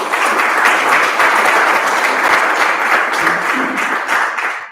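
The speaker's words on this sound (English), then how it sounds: "how about another round of applause for CVS?" Audience at a Stamp Out Hunger food drive launch giving another round of applause for CVS, a loud, dense, sustained burst of clapping that tapers off at the end.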